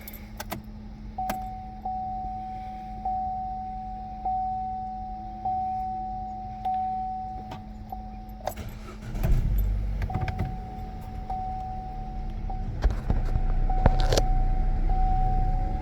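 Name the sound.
Chevy Cruze power window motor opening and closing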